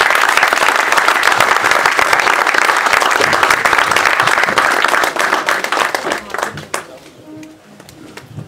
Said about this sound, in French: Elle avance, nous acclamons pour la gloire de Jésus.